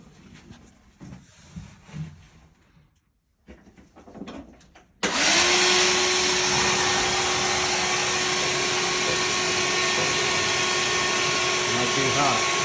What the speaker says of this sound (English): I'm going to turn the vacuum on, and we're going to suck those clean as he pulls them out.